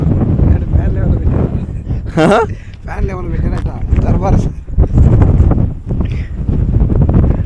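Strong wind buffets the microphone along an abandoned railway track, a continuous loud rumbling gust under a person talking throughout.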